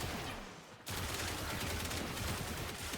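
Athodai Prime pistol firing in Warframe: a dense, loud stream of rapid gunshots with a brief dip just before the one-second mark, then sustained heavy fire to the end.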